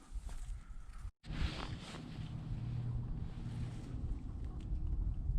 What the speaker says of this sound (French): Un bateau.